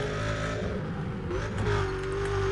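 Car engine revving and accelerating in the racing game Need for Speed Undercover, a steady loud engine drone with rising pitch, near and continuous, no talk.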